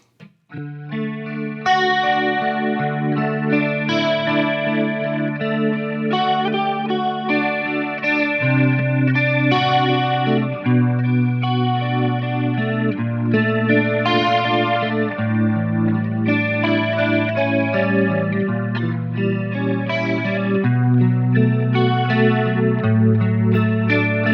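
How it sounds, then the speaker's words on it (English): Electric guitar chords played through an Axe-Fx III rotary effect with a swirl, sustained and loud, with shifting warbling tones and no talking. "I'm just going to play some chords and see what happens"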